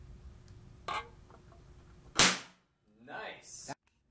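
A charged capacitor bank discharges into an aluminum Jumex can with one loud, sharp crack, preceded by a fainter snap and followed by hissing, sizzling crackle.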